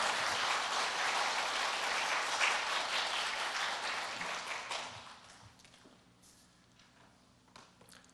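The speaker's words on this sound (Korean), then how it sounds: "그런 마음으로 박수로 환영해 주시기 바랍니다." Congregation applause in a Korean church service welcoming a missionary, a dense wash of many clapping hands that thins and fades away after about five seconds, leaving near quiet.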